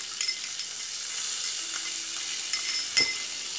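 Onion frying in a pan for a cuscuz farofa, a soft steady sizzle with light stirring scrapes and a clink near the end, no voices.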